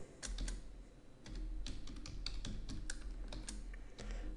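Typing on a computer keyboard to enter a login and password in a PuTTY terminal session to a UNIX/Linux system, with close, quick irregular key clicks in bursts over a steady low hum, no talking.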